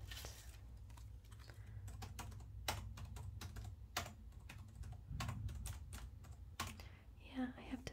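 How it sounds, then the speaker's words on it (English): Soft, close clicking of keys on a laptop keyboard, quick uneven bursts of typing in a quiet grocery-checkout roleplay setting, with a low background hum. "Yeah, I have to type it in."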